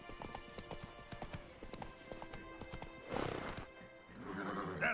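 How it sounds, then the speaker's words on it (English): A horse gallops in the video game The Witcher 3, its rapid hoofbeats clip-clopping in a steady rhythm, then a louder burst of movement and a snorting whinny near the end, faint under game sounds. "Run, Roach"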